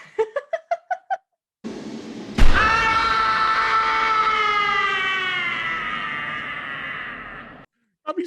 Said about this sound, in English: then you hear him screaming as he's burned completely